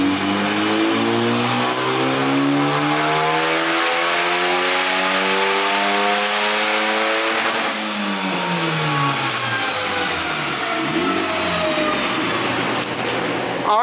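A turbocharged SOHC car engine with a maxed-out Walbro 450 fuel pump revs up steadily on a dyno, its loud rising whine climbing for several seconds, then dropping off as the throttle closes.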